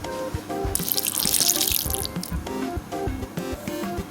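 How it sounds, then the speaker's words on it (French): Water pours into a mixing bowl while making a homemade Neapolitan cake, with a close, splashing rush that swells and then trails off into drips and clinks, and no talking. "Maintenant, je mets l'eau."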